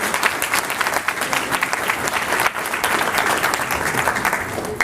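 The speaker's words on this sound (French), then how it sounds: "Vous pouvez l'applaudir." An audience claps to welcome a guest on a French television show, a thick, even wash of applause that stays loud and steady throughout.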